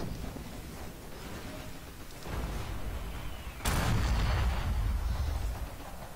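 A Panther tank's main gun fires in Forgotten Hope 2, a single loud, heavy blast that cuts in partway through and rumbles on under ongoing battlefield noise.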